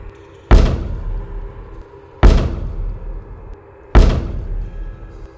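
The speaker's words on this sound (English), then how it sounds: "Suddenly, a shuffling sound, followed by four loud knocks," Loud knocking sound effect in a poltergeist retelling: three heavy, evenly spaced thuds with sharp attacks and booming low decay, each ringing out before the next.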